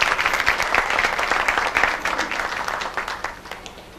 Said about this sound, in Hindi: तालियां हो जाए हेजल के लिए।